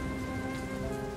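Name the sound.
rain falling on pavement in World of Goo 2 video game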